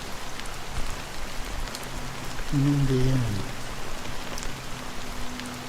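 Steady rain patters in Honkai: Star Rail, a soft continuous hiss under a brief spoken line in the middle.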